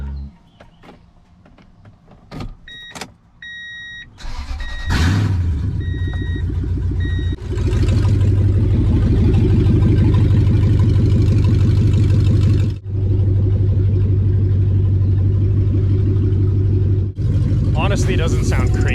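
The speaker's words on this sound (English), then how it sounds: "Time to hear what the race truck sounds like." Race-built work truck fitted with new catalytic converters starts up and idles loudly nearby, a steady deep engine rumble with a couple of brief dips, following some clicks and short voices at the start.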